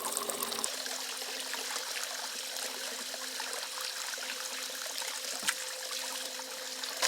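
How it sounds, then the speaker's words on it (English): Garden hose trickling water into a bucket to clear out clay while panning tailings for gold, a steady close dribble running the whole time, briefly louder near the start and with a small splash later. "I'm just going to trickle some water in there to kind of help clear out the clay"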